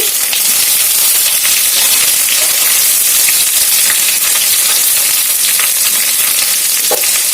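Curry leaves, amaranth greens and green chillies fry in hot oil, a loud, continuous, close sizzle and crackle with occasional spits, no voices.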